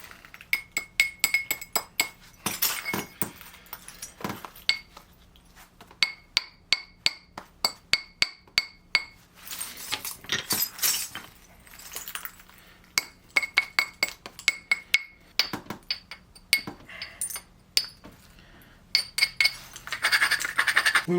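Stone biface being thinned by flintknapping: many sharp, glassy clinking strikes and short pressure flakes in irregular bursts, close and clear against a quiet background, with occasional scratching between blows and no talk.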